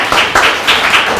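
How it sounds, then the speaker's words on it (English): A sales meeting audience gives a short round of applause: loose, sparse clapping in uneven bursts, fairly close and moderately loud, with no talk over it. "So give him a round of applause."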